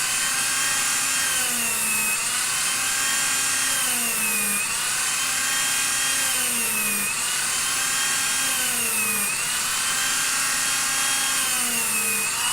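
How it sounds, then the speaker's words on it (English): A cordless Dremel rotary tool working on a Mark IV Iron Man build whines steadily and loudly, its pitch dipping and rising in repeated cycles every couple of seconds as the load changes, with no speech. "Now I'm using a cordless Dremel"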